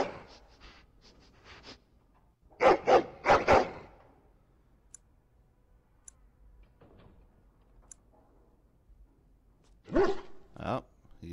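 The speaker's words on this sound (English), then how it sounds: "Oh, that's a big Mabari dog. Barking at bags." Big Mabari war dog in Dragon Age: Origins barking at bags, a few loud bursts near 3 seconds and again near 10 seconds, separated by quiet game ambience.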